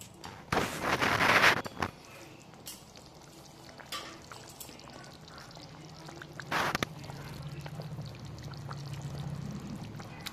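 Fried katla fish pieces are dropped into simmering curry gravy with a short wet splashing burst, a second brief splash later, and a quiet bubbling simmer in between.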